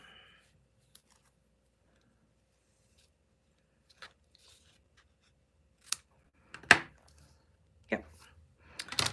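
Scissors make a few quiet, scattered snips through a piece of craft material. The cuts come at irregular moments, with near silence between them, and they grow a little louder and closer together toward the end.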